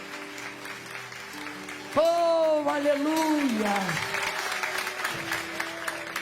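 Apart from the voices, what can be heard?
congregation applauding the name of Jesus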